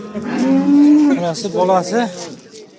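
A Simmental hybrid cow at a cattle market moos loudly and close by, one long drawn-out low call followed by a couple of shorter lowing sounds.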